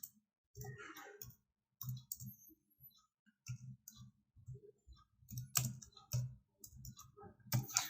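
Keys on a computer keyboard clatter in quick irregular bursts as a company name is entered, close and fairly soft, with brief pauses between runs of keystrokes.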